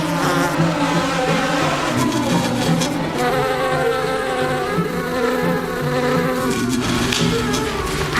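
Several people buzz in imitation of bees during a live television show, a dense, continuous, droning hum from many voices at once, loud and sustained throughout.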